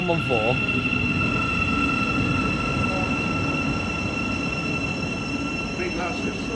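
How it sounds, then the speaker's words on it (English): A Great Northern Class 700 electric train stands at a platform at Hitchin on the East Coast Main Line, giving a steady, loud rumble with a constant electrical whine throughout. A voice, likely an announcement, sounds over it. "Now will be a Great Northern service operated by Class 700 platform 1"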